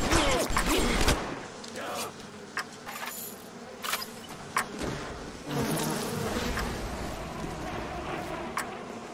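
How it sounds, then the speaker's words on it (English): Buzzing bees in the underwater video game Bioshock hum steadily throughout, mixed with game ambience and occasional sharp effects, while a voice talks intermittently over them. "I can hear the bees in my ears, and it's awful."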